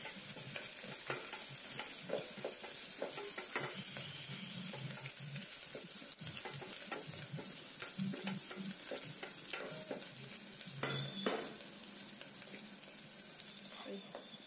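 Onions fry in a pan for mutton curry, a steady close sizzle broken by frequent scraping stirs and clinks of a spoon, with brief running water now and then and murmured voices in the background.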